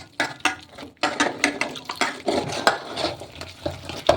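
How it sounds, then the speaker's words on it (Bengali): Flour and rice flour batter being mixed with water in a bowl, a string of wet, irregular stirring and scraping strokes up close, no talking. "এবার আমি এর মধ্যে অল্প অল্প করে জল দিয়ে একটা ব্যাটার বানিয়ে নেব।"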